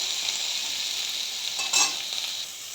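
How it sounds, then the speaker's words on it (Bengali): Vegetables frying in a pan for a poppy-seed and bottle gourd greens dish, a steady soft sizzle with a brief scrape of stirring near the end, no talking. "সবজিগুলো আমার বেশ ভাজা হয়ে গিয়েছে"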